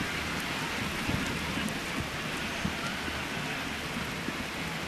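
Heavy rain pours straight down on a baseball stadium at a Cleveland at Chicago game, a steady broad hiss with scattered drop impacts, constant and fairly distant.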